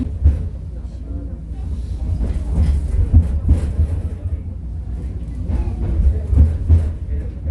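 A tourist beach tram in Busan rumbles steadily along the rails with low droning and faint clatter, heard from inside as people talk quietly.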